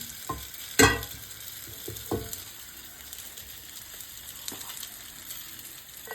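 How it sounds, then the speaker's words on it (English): Oil is spread around a frying pan for homemade cheese kottu, with a few sharp utensil knocks and scrapes near the start over a faint, steady sizzle that continues throughout. "we start with oiling up the frying pan, and yeah, just oil it up first"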